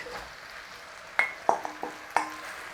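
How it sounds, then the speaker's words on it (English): Beef and bell peppers are stir-fried in sauce in a hot pan, giving a soft sizzle under several quick scraping and tossing knocks that come in a short, close burst. "Stir through, toss over, job done."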